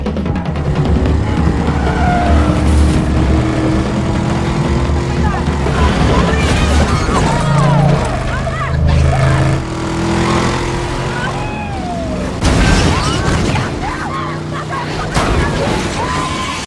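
A car chase from a Quentin Tarantino film, with loud engines, skidding tires and rushing motion noise, dense and continuous under a music score with scattered voices.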